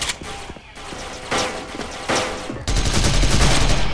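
Gunfire from the online shooter Special Force, fired with a Christmas neon guitar-styled gun, comes as loud, dense bursts of rapid shots broken by short pauses, then one sustained heavy volley at the end, with no talking.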